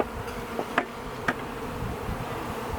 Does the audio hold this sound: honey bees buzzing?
yes